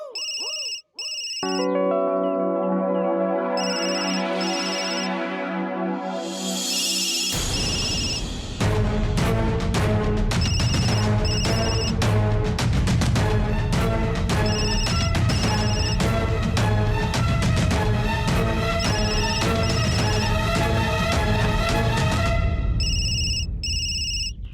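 A melodic electronic ringtone plays loudly over a steady musical backing, its chiming tones repeating for a long stretch.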